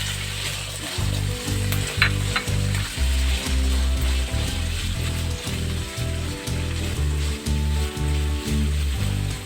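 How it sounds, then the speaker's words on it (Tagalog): Potatoes and carrots fry in hot oil for pork menudo, a loud, close, continuous sizzle punctuated by rhythmic scraping knocks from stirring in the pan. "pagpiprito po tayo muna ng patatas at carrots"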